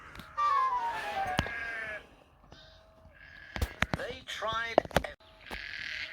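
Sheep loose in a field near a broken fence, bleating in wavering calls that come and go among scattered knocks and other noises, with voices talking in between.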